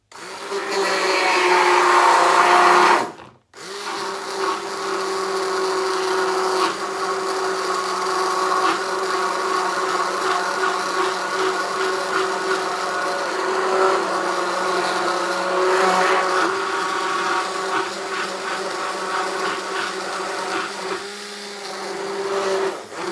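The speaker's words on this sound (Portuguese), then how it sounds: "E aí a gente vai bater com o mix." An electric hand mixer whips water tinted with a few drops of food coloring into foam, a loud continuous whirring motor running close up for over twenty seconds after a brief pause near the start.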